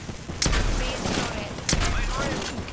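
Gunfire in a video game, two sharp shot bursts about a second apart standing out over a steady bed of game ambience, with faint talk in the background.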